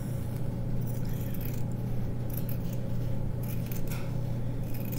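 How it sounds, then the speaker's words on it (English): Scissors cutting fabric for a homemade blanket, a soft continuous snipping and scraping over a steady low hum, close and fairly quiet with no talk. "I'm almost done cutting this off"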